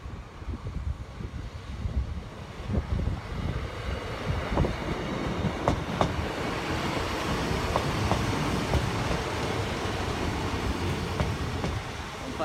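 A ScotRail Class 156 diesel train passes the Kirknewton level crossing in a steady, broadband rumble with scattered wheel clicks and wind buffeting the microphone, holding at a constant level for the whole passage.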